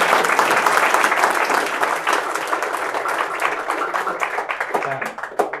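An audience at a talk on investing in knowledge applauds, with loud, dense clapping that stays steady for several seconds and then begins to thin toward the end.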